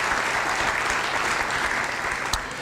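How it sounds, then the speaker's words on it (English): An audience claps at the Rising Star Breakfast, a Hartford Public Schools event, with loud, dense applause filling the whole stretch and no let-up. "Let me give you a round of applause."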